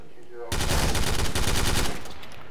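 Gunfire in Garry's Mod during a police roleplay: a sudden, loud burst of rapid automatic fire lasting about a second and a half, then stopping abruptly.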